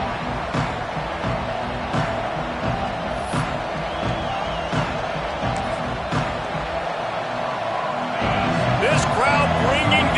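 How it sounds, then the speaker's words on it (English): A football stadium crowd roars as a steady, dense wash of noise under a commentator's continuous talk, swelling slightly louder toward the end with scattered cheers and thuds. "This crowd bringing the energy and noise early."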